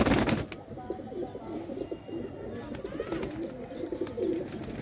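A golden pigeon at a bird sale coos in soft, low repeated calls close by, with faint background voices.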